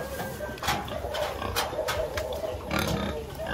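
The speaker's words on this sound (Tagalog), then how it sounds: "Laki ng baboy natin," Pigs on a farm grunt and oink steadily at close range, with busy squealing and snuffling throughout and louder bursts scattered across the clip.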